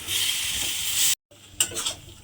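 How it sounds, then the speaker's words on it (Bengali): Young jackfruit being stirred with spices in a cooking pan, a steady sizzle and scraping for about a second, a brief silence, then lighter stirring scrapes and clinks, close and fairly loud. "এবারে এঁচড়টাকে খুব ভালোভাবে মশলার সঙ্গে মিশিয়ে নেব"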